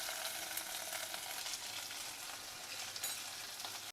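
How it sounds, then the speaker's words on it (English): Chopped vegetables and curry leaves stir-fried in a pan for a South Indian lunch, giving a steady, fairly loud sizzle with crackling that holds unbroken throughout, with no voices. "Stir fry them Add some curry leaves."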